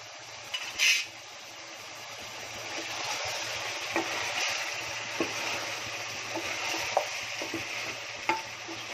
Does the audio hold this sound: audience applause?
no